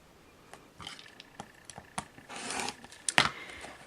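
Quilt fabric layered as a mirror-image pair being cut corner to corner, heard as a few soft, close snips and slides, then a brief burst of dense crisp cutting noise near the end.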